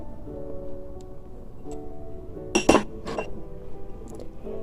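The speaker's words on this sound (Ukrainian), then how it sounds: "перемішуємо це все, можна ложкою, не обов'язково рукою, перемішуємо сіль і борошно." A spoon clinks against a bowl a few times while mixing flour and salt, with a cluster of bright clinks in the middle over a low steady background hum.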